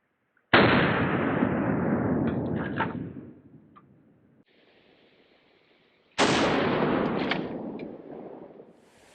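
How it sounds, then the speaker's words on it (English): A shotgun fires double-aught buckshot at a lightweight Level IV multi-curve body armor plate on an outdoor range, two loud close blasts several seconds apart, each with a long booming echo that fades slowly. "we have some double-out buckshot coming up next out of our blue line shotgun"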